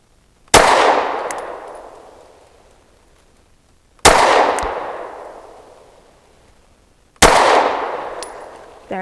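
Three sharp pistol shots from a PSA Dagger Micro firing Federal Premium 135-grain Hydra-Shok ammunition, spaced a few seconds apart, each loud crack ringing out with a long, fading tail at an outdoor range.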